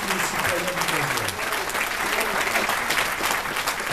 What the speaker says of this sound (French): Et je vous demande de les applaudir